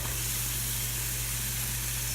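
Water beads dance and sizzle on a hot, empty pan before mushrooms and onions go in for teriyaki pineapple rice, making a steady, even hiss over a low constant hum.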